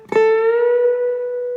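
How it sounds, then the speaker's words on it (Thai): A single plucked acoustic guitar note rises smoothly in pitch as the string is bent up a whole tone, then sustains, clear and close with no talking. "1 เสียงดันขึ้นไป1เสียงนะครับได้เสียงนี้นะ"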